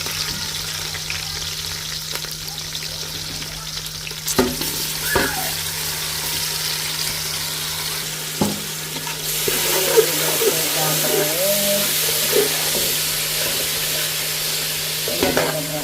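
Ginger fries in a pan as it is stirred, a continuous sizzle broken by sharp utensil scrapes and clicks. A low steady hum sits underneath, and the frying grows brighter and busier in the second half.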